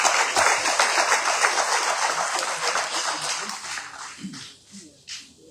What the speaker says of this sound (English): Let's clap for them one more time.